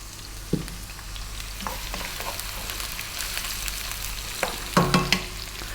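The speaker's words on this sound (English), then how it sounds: "Let's start by dropping in 1 cup of sliced onion, 1 tablespoon ginger, 1 tablespoon garlic." Sliced onion, ginger and garlic frying in oil in a pan, giving a steady sizzle with scattered clicks and a few sharper clatters of a utensil near the end.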